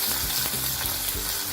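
Tempering is mixed into salted caramel payasam in a pot, a brief loud hiss and bubbling with a few quick stirring scrapes, close by and without speech.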